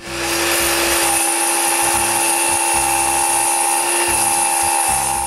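Power saw cutting wood for window framing in a workshop under construction, a loud steady high whine with a constant pitched tone and rhythmic low chugging underneath, continuous throughout.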